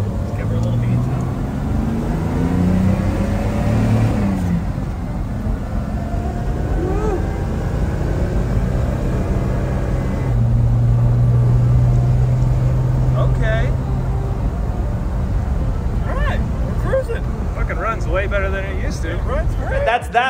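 A Comanche truck on its first drive after a build, its engine running and revving with a steady rumble that rises and falls over about twenty seconds, while people talk over it.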